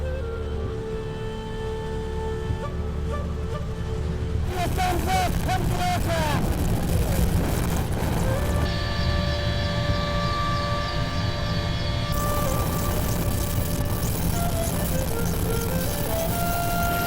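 Loud, steady drone of a Russian helicopter flying through mountain canyons while carrying skiers in Iran, with a continuous rotor and turbine roar and wavering tonal whines that shift in pitch throughout.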